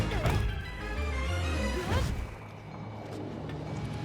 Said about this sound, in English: The combo starts with 2 overhead smashes and finishes with the iconic, player-based named Golfswing attack